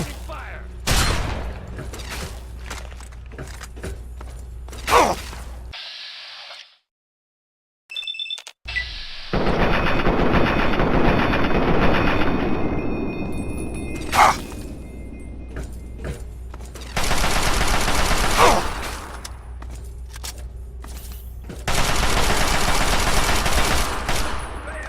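Bursts of gunfire and explosive booms from the video game Fallout 3, loud and repeated in several dense stretches broken by brief silences, with occasional short game voice lines in between.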